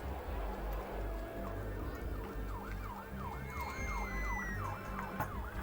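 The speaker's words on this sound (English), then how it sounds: "A siren just drove by my window" An emergency siren passes outside a window, its wailing rise-and-fall cycles repeating steadily at middle distance over a constant low hum of indoor noise.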